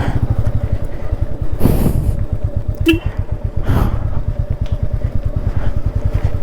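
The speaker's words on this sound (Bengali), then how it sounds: "বাইক চালাচ্ছি" A motorcycle ridden through a rough, rocky river crossing on a mountain trip toward Spiti, its engine thumping steadily and close, with sloshing water and brief splashes rising over the running motor.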